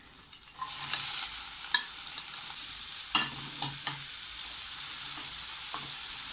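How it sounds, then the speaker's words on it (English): Green chilli and onion sauté in about three tablespoons of hot oil with a soft, steady sizzle, broken by a few sharp clicks and scrapes of a spatula stirring the pan. "add green chilli. Saute it for a few seconds and then add onion"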